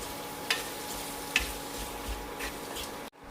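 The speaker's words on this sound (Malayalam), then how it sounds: "അതിലേക്ക് മുട്ട വെള്ള അരിഞ്ഞ് വെച്ചിരിക്കുന്നത് ചേർക്കാം ഇനി ഇതെല്ലാം കൂടി ഒന്ന് മിക്സ് ചെയ്യാം" Chopped egg whites stirred into a boiling vinegar mixture for a spicy egg pickle, giving a soft, steady sizzle with a couple of faint scraping stirs.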